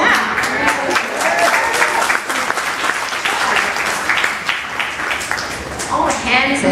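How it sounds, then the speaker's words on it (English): Dense, sustained applause fills a packed wedding reception, a crowd clapping loudly and steadily while a person speaks over it. "give you guys another hand, guys. Come on. Clap."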